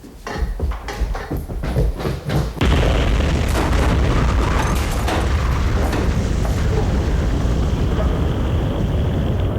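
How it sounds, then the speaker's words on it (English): A bomb detonates in a TV drama scene: a loud, heavy boom after a few sharp bangs, followed by several seconds of sustained roaring rumble and debris noise, with no talking. "There's a bomb in it!"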